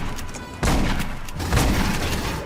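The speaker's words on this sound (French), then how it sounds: "Il tire avec un smart gun, j'ai l'impression." Smart gun firing in the video game Aliens: Colonial Marines, dense bursts of booming gunfire and thuds over a noisy game mix, with no clean separate shots.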